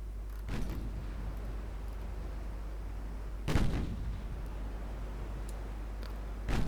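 Naval main guns firing in the warship game Ultimate Admiral: Dreadnoughts, three heavy booming salvos spaced a few seconds apart, each a sharp blast with a rumbling tail over a constant low engine drone.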